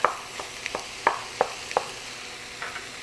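Ground beef browning in a skillet with onions, a spatula scraping and knocking against the pan in several quick, uneven strokes over a faint background sizzle.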